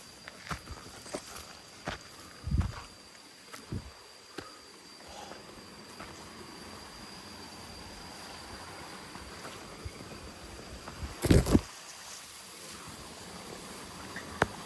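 Footsteps climb uphill on a forest trail in humid rainforest, quiet and steady under a constant wash of insect or stream-like ambience, with a few louder crunching steps and brushing sounds standing out.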